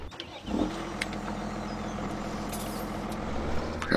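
A tractor engine in a farming game turns over and settles into a low, steady idle rumble, fairly close and alone, with a faint hiss near the end.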